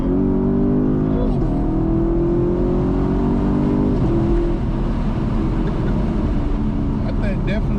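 Camaro engine revving loudly after holding a downshift into second gear, its pitch climbing and then settling into a steady drone, heard from inside the car with someone talking over it.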